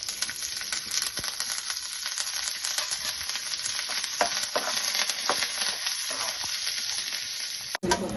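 Dal and curry leaves sizzle steadily in a hot pan, a close, continuous frying crackle with occasional stirring scrapes and no voices.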